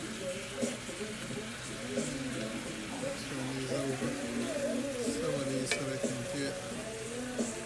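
Jumbo shrimp fry in a pan, cooking for bourbon brown sugar shrimp pasta with broccoli, peppers and onions, giving a steady close sizzle with stirring clatter throughout and faint background sounds.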